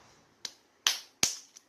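Three sharp hand claps from a child during a simple instruction-following exercise, spaced about a third of a second apart and close by, with a faint fourth tap trailing after.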